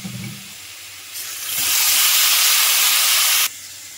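Soaked flattened rice (poha) goes into a hot pan and bursts into a loud, steady sizzle that swells after a quiet start, holds strongly, then cuts off abruptly near the end.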